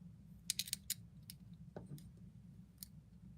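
A small wrench backs a cross-threaded screw out of a Gerber MP600 multi-tool. The sound is a few faint, close metallic clicks and ticks in short clusters over a quiet background.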